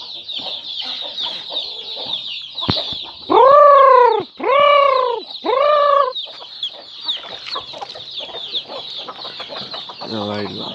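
A white rooster and a hen cluck close by in a farmyard. Three loud, drawn-out harmonic calls stand out over a steady scatter of softer clucks, with a brief low call near the end.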